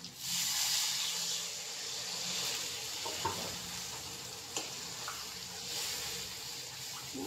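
Steady, loud sizzle and hiss from a hot pan of fish curry just after water goes in, with faint clinks and scrapes now and then.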